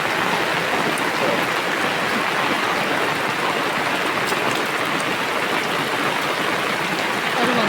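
Heavy rain pours steadily on a hillside home in Tanahun, Nepal, a loud, dense, unbroken hiss of drops close by that continues throughout.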